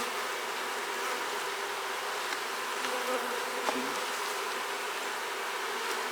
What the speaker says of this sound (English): Where's all them bees coming from?